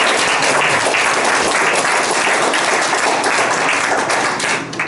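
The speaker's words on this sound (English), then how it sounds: "All right, round of applause for everybody." An audience at a forum on veteran homelessness claps together, a thick continuous roar of applause that holds steady and begins to thin just at the end.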